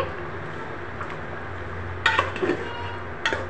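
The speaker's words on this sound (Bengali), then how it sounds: "আমি এখন আলুগুলো দিয়ে দিব" Freshly cut, washed small new potatoes go into a cooking pot, giving a few close clattering knocks and clinks of pot and utensil over a low kitchen hum.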